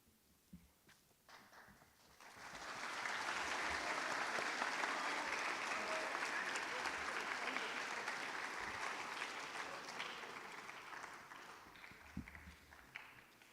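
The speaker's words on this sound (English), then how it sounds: "can we please get another round of applause?" An audience bursts into sustained applause at a FIRST Robotics team induction ceremony after its mentors are thanked, the clapping building quickly, then holding as a dense, steady roar before tapering slightly near the end.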